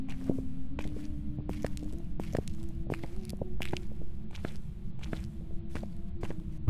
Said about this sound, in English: can you hear the footsteps?